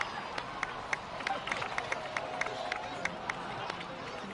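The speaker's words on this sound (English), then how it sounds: "please give another round of applause for them" Scattered claps and light crowd applause in a Natlan video game cutscene, faint and patchy with sharp individual claps over a soft crowd murmur.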